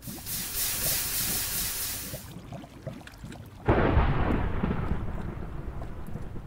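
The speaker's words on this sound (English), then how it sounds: "This thunder makes it a little bit more creepier." Rumbling thunder in the Minecraft video game, a broad roaring wash that fades midway and then swells back with a deep, heavy rumble, loud and alone.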